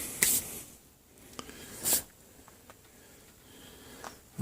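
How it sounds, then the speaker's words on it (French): A hand-pumped garden sprayer misting water in a greenhouse, giving a few short, sharp hissing spurts separated by quiet gaps, close and fairly loud. "J'arrose bien au pulvé."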